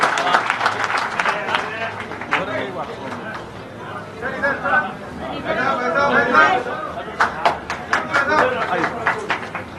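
Scattered clapping from a crowd at a political party joining event, with lively chatter and babble throughout, building in bursts rather than one sustained ovation.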